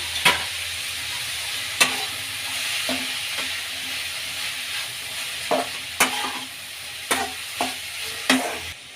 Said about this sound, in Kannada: ನುಗ್ಗೆ ಸೊಪ್ಪು ಈರುಳ್ಳಿ ಸ್ವಲ್ಪ ಫ್ರೈ ಆಗಲಿ